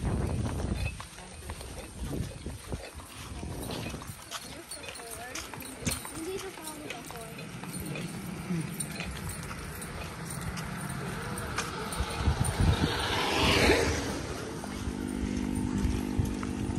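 Hooves of a horse clip-clopping on a trail on the way to a campsite, a steady rhythmic clatter running beneath near constant family talk, with engine-like rumble near the end.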